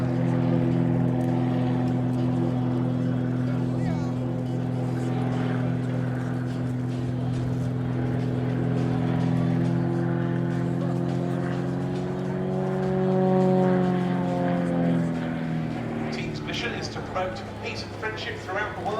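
Extra 330LX aerobatic planes flying a formation display at an airshow give a steady, droning propeller-engine hum. The pitch bends slowly as they maneuver and the sound swells a little mid-way. A commentator talks over it the whole time.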